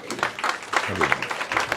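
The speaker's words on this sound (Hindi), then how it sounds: "आइए जरा जोरदार तालियों के साथ" An audience claps at a devotional gathering, a short, moderately loud burst of applause with a voice talking over it.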